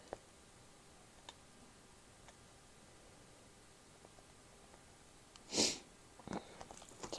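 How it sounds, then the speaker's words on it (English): A single sharp sneeze bursts out near the end of a quiet indoor diamond-painting craft session, followed by a few soft sniffs and small ticks against faint room hiss. "now I'm sniffing because I sneezed"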